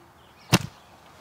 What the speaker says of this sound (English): That's the little click sound you hear after you shut the tractor off,